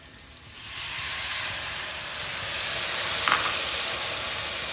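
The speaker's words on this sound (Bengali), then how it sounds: "5টা চেরা কাঁচা লঙ্কা দিয়ে একটু ভেজে নেব" Slit green chilies and a dry spice paste hit hot oil with black cumin for a hilsa curry, giving a loud, continuous sizzle and hiss that swells slightly partway through, with a brief scrape near the end.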